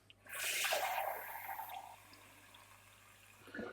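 Water is poured into a pan of rice with lemon juice for a one-pan Mediterranean rice dish, a steady rushing splash that gradually softens into a quieter trickle.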